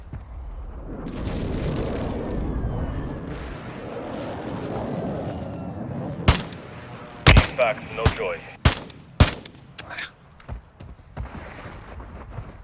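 Gunshots in a war video game during sniping: a rumbling battle bed of distant gunfire, then a series of sharp, loud shots and impacts close together, with a faint voice.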